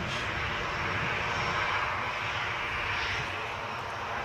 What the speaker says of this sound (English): That chopper's got to be moving. You just hear the change in pitch.